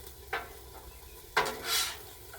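Food sizzles on a Blackstone griddle in a soft, steady hiss, broken by two sharp scraping clacks of a spatula on the metal and a brief swell of louder sizzle as food is turned.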